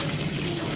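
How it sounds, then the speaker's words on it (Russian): Water runs from a tap into a pot to rinse potatoes in a cook's kitchen, a brief, steady, close rushing splash with no other sound over it. "Все сливаю, промываю, напускаю воды"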